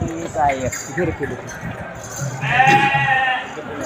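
Sheep bleat nearby, a wavering cry rising over people talking, with a light metallic clink in the background, in a herd of about fifty sheep during a Nag Panchami fair.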